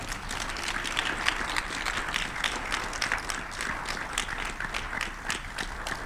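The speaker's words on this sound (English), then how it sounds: "I want you all to give these students a round of applause" A room full of people applauds students at a spring industry keynote event, steady dense clapping throughout with no talk over it.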